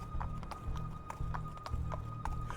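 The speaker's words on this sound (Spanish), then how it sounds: "Solo el sonido del rechinar de la carreta y los golpes secos de cascos de caballos resonaban" Horse hooves clip-clop at a steady walking pace with a low rumbling cart underneath, each hoof strike sharp and moderately close, set in a spooky street scene with no speech.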